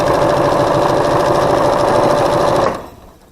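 A sewing machine runs steadily, stitching a narrow quilt seam on half-square-triangle blocks for a rainbow quilt, loud and close with a fast even whir, then stops abruptly near the end.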